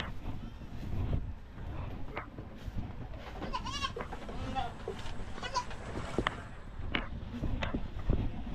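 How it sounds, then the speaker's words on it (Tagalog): Goats bleating on a rural farm, several wavering calls scattered through the clip over a busy outdoor background, with faint voices nearby. "Sisilong natin yung kambing."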